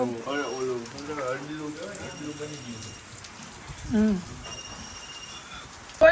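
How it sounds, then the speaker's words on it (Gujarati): Rain patters steadily in the background while people talk close by, with a few louder splashes. "વરસાદ રહેવાનું નામ નથી લેતો"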